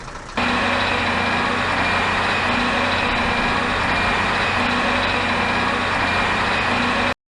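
A heavy diesel grader engine in a children's video game rumbles steadily at close range, a constant low drone with no talking.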